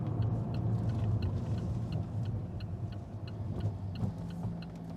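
Turn signal on a 2015 Alfa Romeo 4C Launch Edition ticks in a steady, evenly spaced rhythm, faint and close, layered over a constant low engine and road rumble while driving.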